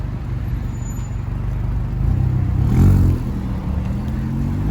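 A Scion tC with a raspy new exhaust, axle-back muffler and resonator deleted, drives past, its engine drone swelling to a louder peak midway and then easing off while staying present throughout.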